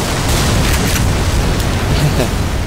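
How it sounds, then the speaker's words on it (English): Loud, dense explosions and booming blasts in the video game Black Mesa, a continuous rumbling barrage with several sharper bursts across the stretch. "Lots of explosions."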